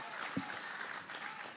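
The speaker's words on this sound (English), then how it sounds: "another rousing round of applause" Audience applause for the Prime Minister at a bus handover ceremony for the Jamaica Urban Transit Company, a steady, moderately distant wash of clapping with one sharper clap near the start.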